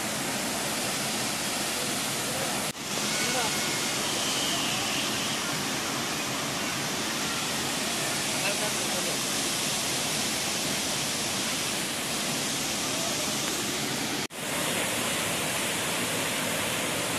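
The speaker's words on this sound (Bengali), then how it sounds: "দশম ফলস, রাঁচি, ঝাড়খণ্ড।" Dasam Falls near Ranchi, Jharkhand roars as a steady, loud, broadband rush of falling water, unbroken apart from two brief cuts.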